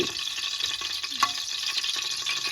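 Cinnamon sizzling in a mix of ghee and oil for mutton biryani, a steady close hiss of frying with light stirring scrapes, no voices.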